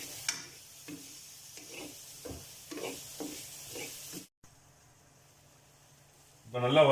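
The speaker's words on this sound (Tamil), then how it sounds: "இதோட சேர்த்து ஒரு 2 நிமிஷம் நல்லா வதக்கினா போதும்." Raisins sautéing in a pan for Arabic chicken mandhi make soft, rhythmic stirring scrapes over a faint sizzle. The stirring stops partway, leaving near quiet before a louder burst of noise at the end.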